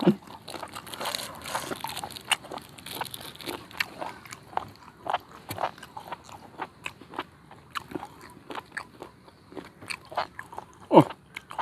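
Someone chews som tam with fresh shrimp and pork leg close to the mic, each bite giving a wet crunch in a steady, repeated rhythm with soft smacking between bites.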